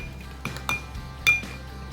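A spoon stirring melted butter and sugar in a mug, giving several light, irregular clinks against the sides over a low background hum.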